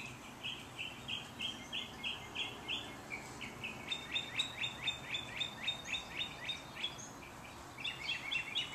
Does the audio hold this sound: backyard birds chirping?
yes